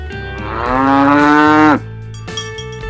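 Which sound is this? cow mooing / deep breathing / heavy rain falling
cow mooing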